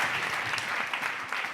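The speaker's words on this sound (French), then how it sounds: "merci de les applaudir" An audience at a Social Change 2019 conference gives a short burst of dense, steady applause, many hands clapping together at close range.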